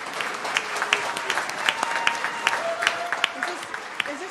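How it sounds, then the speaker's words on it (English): Audience applause for first grade students at a school governing board meeting, sustained crowd clapping with sharp individual claps and a few voices over it. "Let's give them another round of applause."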